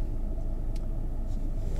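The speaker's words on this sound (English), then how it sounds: "Now a car coming the other way blocked them from crossing the road" A car rumbles past on a road through wildlife country in the Tetons, a steady low drone of tires and engine at moderate distance with no one talking.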